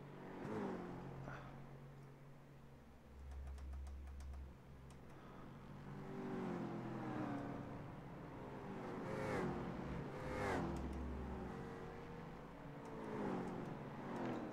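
Racing cars in the iRacing sim, with engine notes rising and falling through upshifts, revving and accelerating at a quiet, low level, joined by keyboard clicks and no talk.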